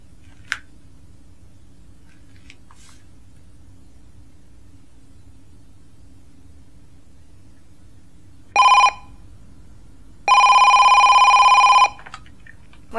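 Two bursts of a telephone ringing in a quiet room, a short ring followed after a pause by a longer one, with faint background hiss in between.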